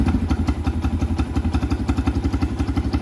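A Venom X20 125cc motorcycle engine idles close by, a steady rapid pulsing putter with an even mechanical rhythm and no voices.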